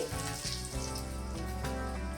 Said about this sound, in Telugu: ముందుగా బాండీ పెట్టి 2 స్పూన్లు ఆయిల్ వేసి ముందుగా ఎండుమిరపకాయలు తిరిమేసేసి